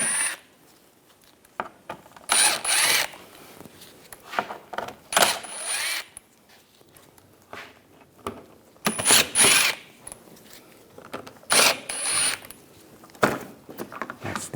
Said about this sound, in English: Using a T25 socket, these screws under here, we want to take all of those out.